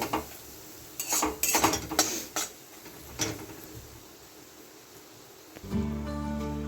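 Ground coriander and masala stirred in a pan for katla fish, a handful of close metallic scrapes and clinks of a spoon against the pan over a soft frying hiss, then a louder sizzle near the end.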